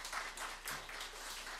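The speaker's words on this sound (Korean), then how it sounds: "우리 한입으로 찬양대 위해서 박수 한번 부탁드립니다." A church congregation at a Christmas worship service claps for the choir. The applause is soft and brief, a steady patter of many hands heard from a distance.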